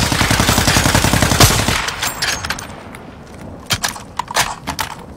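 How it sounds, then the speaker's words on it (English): Rapid automatic gunfire rattles in a shooter video game, a loud, dense burst lasting a couple of seconds, then giving way to scattered single shots and sharp impacts. "They're shooting at me."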